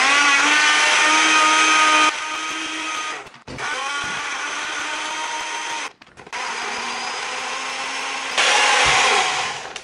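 A loud electric blender whirs steadily juicing kale, dropping pitch and pausing briefly twice as the load shifts, then surging back to full speed near the end.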